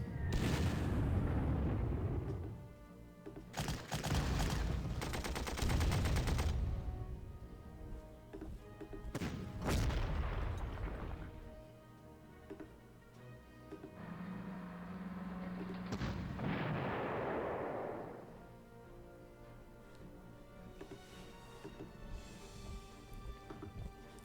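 Bombs dropping in the Panzer Corps strategy game during Operation Sealion, a series of heavy booming explosions in separate bursts, some close together, followed by a lower rumbling tail.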